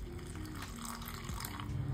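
Water poured into a small bowl of homemade wheat-and-semolina baby cereal powder, a soft, faint trickling pour close by with no talking.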